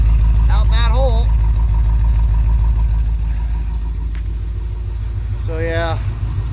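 An old car engine pulled from a barn after more than ten years, running with worn piston rings and blue smoke, a loud steady low rumble that swells as it revs, with a voice speaking over it.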